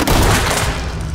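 Video game gunfire in a dense, loud burst of overlapping shots and booms, close up and filling the whole moment.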